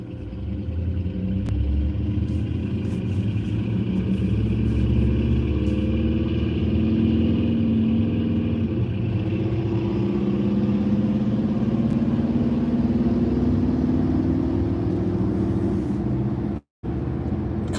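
A car rolls along in slow, heavy traffic, its engine and road rumble forming a steady, loud drone throughout, with a brief cut-out near the end.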